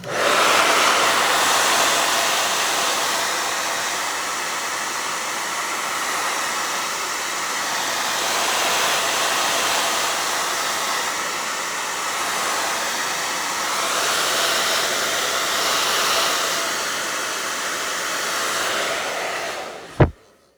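A hair dryer blows steadily for about twenty seconds over a wet acrylic floral abstract painting, a loud close whooshing roar that swells slightly as it moves, then clicks off abruptly at the end.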